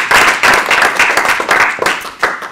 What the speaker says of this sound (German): kurz Applaus, schön, dass ihr dabei seid